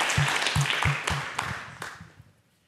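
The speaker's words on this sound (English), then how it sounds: "So a big round of applause" A short burst of applause with a handful of distinct claps in an irregular rhythm, fading out after a couple of seconds.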